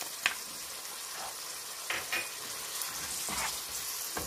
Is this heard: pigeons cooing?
no